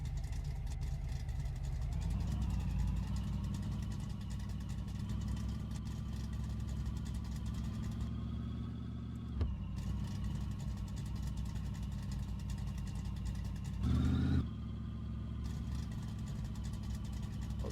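A big block car engine in the game My Garage holds a loud, sustained high-rev drone, with brief dips and a short surge partway through, and no speech over it.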